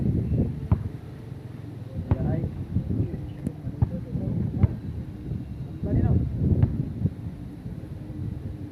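Steady outdoor wind rumbles and buffets the microphone at a shooting match, a low continuous roar with gusts, while people talk over it and occasional sharp clicks and knocks cut through.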